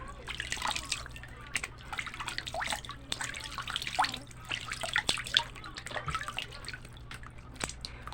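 Water splashes and drips steadily in a sink as a face is rinsed clean of a ceramide skincare product during a night routine, with soft irregular patters close by.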